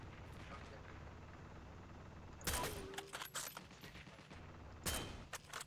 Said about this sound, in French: Mais c'est un ennemi qui a la mitrailleuse là.